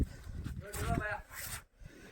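A Murrah buffalo in a cold Haryana farm setting gives a low, droning moo lasting about a second, close by, with faint background noise.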